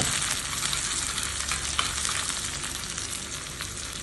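Mustard seeds crackling in hot coconut oil in a pan while preparing a Kerala tapioca dish, a dense continuous sizzle with scattered pops, close and steady with no talking.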